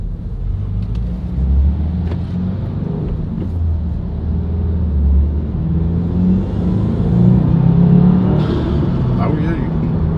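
A 2022 Subaru WRX fitted with an ETS cold air intake pulls away and accelerates, a low engine rumble swelling gradually as heard from inside the car, with a voice briefly talking over it.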